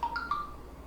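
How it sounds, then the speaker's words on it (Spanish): A telephone rings with a brief burst of short electronic tones that step up in pitch and then fade, fairly quiet against a calm background. "¿Por qué sonó el teléfono?"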